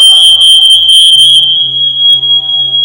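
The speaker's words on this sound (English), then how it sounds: "To check that your smoke alarm is active and working, you push the button on the front of the detector" A home smoke alarm being tested with its front button gives a loud, piercing electronic tone, first pulsing in quick bursts and then holding as a steady shrill beep, close and alone.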